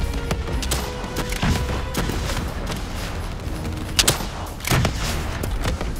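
Game gunfire in Call of Duty Black Ops 3 crackles in loud, dense bursts of automatic fire and impacts throughout a combat scene.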